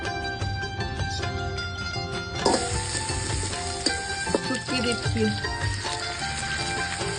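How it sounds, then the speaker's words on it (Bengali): Amaranth greens picked that morning frying with dried fish in a pan, a steady dense sizzle with scraping stirs and small clinks throughout, close and fairly loud, with background music-like tones layered over it. "আজকে সকালে তোলা ডাঁটা শাক, এটাই শুটকি দিয়ে ভাজি করব আজকে।"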